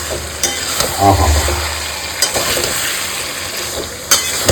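Mutton with papaya and potato sautés on high heat in a pan, a steady sizzle with scraping stirs and a few sharp clinks, and a brief voiced exclamation.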